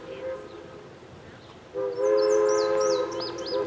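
A train on the Strasburg Railroad, the oldest continuously operating stretch of railroad in the Western Hemisphere, rumbles steadily before its whistle blows loud and sustained, holding for about two seconds.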